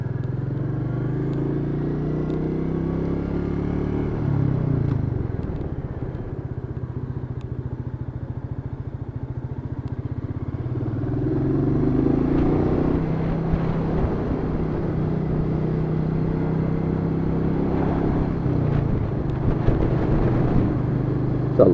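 A Royal Enfield Meteor 350 motorcycle engine thrums steadily while riding, a loud, continuous low drone with rising revs partway through and no talking.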